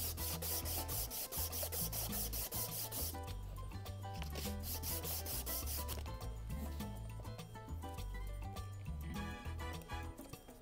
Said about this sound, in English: When I get closer to the mouthpiece fitting on the neck cork, I'm going to switch to a closed sandpaper.